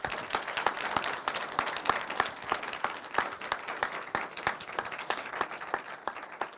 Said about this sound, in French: on peut t'applaudir quand même très fort